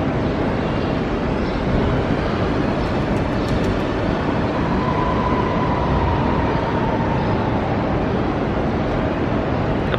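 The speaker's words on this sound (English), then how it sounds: "let me show you here the trains" A constant, loud rumble of Swiss trains fills a Zurich station, with a thin squeal rising briefly in the middle. No one speaks.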